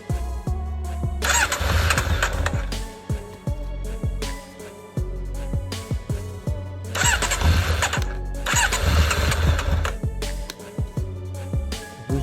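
Motorcycle engine cranked repeatedly with choke set and fuel tap open, sputtering, catching and revving in bursts between starter attempts, loud and close with no talk.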